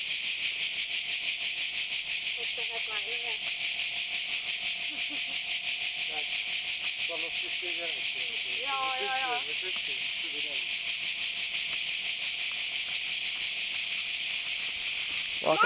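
Cicadas on a mountain path above Prvić Luka drone in a loud, unbroken high-pitched buzz throughout, with faint distant voices and a brief trill from a bird underneath.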